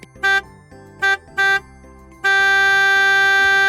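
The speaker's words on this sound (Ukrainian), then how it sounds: "Швидко прямує транспорт, сигналить зайчик." A toy horn gives three short beeps, then one long sustained electronic honk, loud and close.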